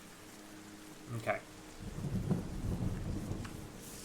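Rain and rumbling thunder in the video game Terra Nil: a faint crack, then a low rolling rumble with steady rainfall hiss building up and continuing throughout, with a single brief spoken word near the start.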